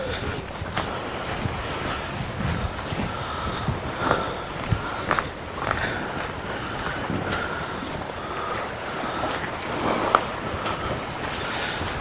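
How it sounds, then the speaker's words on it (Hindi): Water washing against stones on Silver Sands Beach at Aberdour, Scotland, a steady rushing wash with wind buffeting the microphone and occasional footsteps, continuous and fairly close for the whole stretch. "जब पत्थरों के साथ पानी टकराता है तो बड़ी रिलैक्सिंग जो है वो आवाज़ आती है।"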